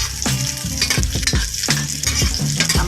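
Sliced onions fry half-cooked in a pan, a steady sizzle broken by repeated scraping and stirring strokes of a utensil against the metal, close up with no voices.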